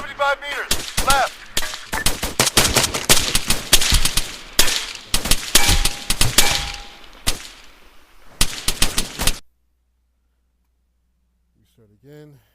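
Rapid machine gun fire in a video game: loud, dense bursts of automatic shots with scattered single cracks, running continuously for about nine seconds before cutting to silence, with a faint brief voice near the end.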